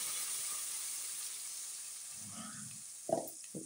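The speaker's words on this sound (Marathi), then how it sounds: "आणि आपण आता हे तसंच फोडणीला टाकूया सगळं आता मसाला बारीक केलेला." Ground masala with turmeric and a pinch of asafoetida is tipped into hot oil for tempering in a drumstick curry, giving a soft steady sizzle with a couple of brief clatters near the end.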